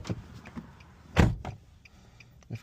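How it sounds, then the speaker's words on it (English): A Nissan Sentra car door is opened and shut, with a solid close thud in the middle and lighter clicks and latch sounds around it, all fairly quiet. "Hazards, open and close the door once."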